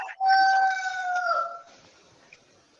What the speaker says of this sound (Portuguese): Tem um galo cantando aí que tá uma maravilha.